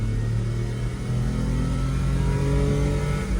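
A new automatic kei truck engine revs hard under acceleration, a steady close drone with rising harmonic tones and no talk.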